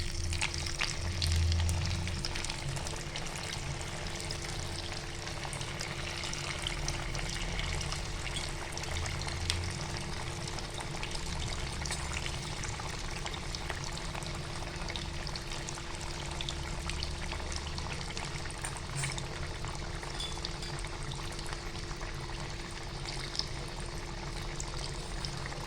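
Pinwheel samosas frying in hot oil in a kadhai, a continuous crackling sizzle with bubbling that holds steady throughout, close and moderately loud with no talking.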